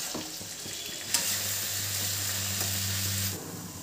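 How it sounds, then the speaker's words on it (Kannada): Sliced onions fry in a pan over medium flame, a steady close sizzle that holds throughout, with a low hum running beneath it from about the middle onward and a brief clatter partway through. "ಈರುಳ್ಳಿ ಒಂದು ಸ್ವಲ್ಪ ಗೋಲ್ಡನ್ ಕಲರ್ ಬರೋವರೆಗೂ ಫ್ರೈ ಮಾಡ್ಕೊಬೇಕು."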